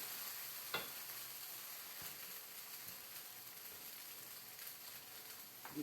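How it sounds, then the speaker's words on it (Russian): Faint, steady sizzling of mixer-whipped pancake batter frying in a pan, a soft crackling hiss with a few light clicks and taps. "Там сковородка быстро готовит."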